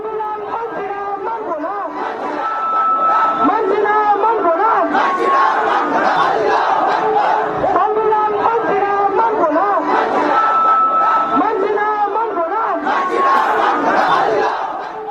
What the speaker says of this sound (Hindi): भीड़ नारे लगा रही है, संविधान नहीं मानेंगे